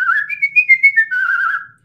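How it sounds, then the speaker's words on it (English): A man whistles a short, wavering melody with lips, bright and close, alone for under two seconds before trailing off into silence. "Like I whistle well."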